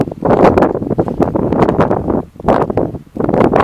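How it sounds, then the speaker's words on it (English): Strong wind buffets the microphone in loud, continuous low rumbling gusts, briefly easing twice before surging back. "so windy for the camera though"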